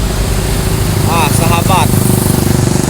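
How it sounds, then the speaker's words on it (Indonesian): An MPM bus from West Sumatra rumbles past on the road, a loud, throbbing diesel engine with a steady pulse, joined midway by a brief warbling horn-like tone, with no one speaking over it. "Ini ada MPM dari Sumatera Barat jam 8 melintas di depan Mabes Yohanda."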